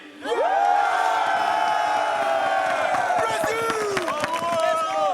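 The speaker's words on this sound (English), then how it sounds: "Yeah, that's a great crowd, Ian." A large esports crowd in Brazil cheers and roars loudly, with whoops and shouts rising over a dense wall of voices that holds for several seconds.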